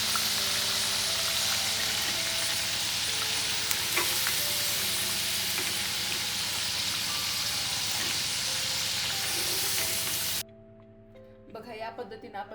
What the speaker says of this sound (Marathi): बघा या पद्धतीने आपण सर्व भाज्या फ्राय करून घेतलेल्या आहेत.